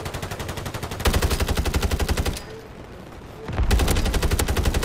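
Rapid automatic gunfire rattles in a shooter video game, two long sustained bursts separated by a brief pause, loud and close.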